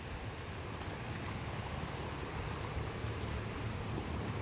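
Broad steady wash of surf and wind at White Beach in Romblon at low tide, a continuous even roar with no distinct wave breaks, heard alone at moderate level.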